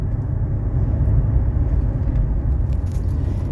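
A 1991 Mercedes 300SE driving, its steady low engine and road rumble droning continuously from inside the car with no break.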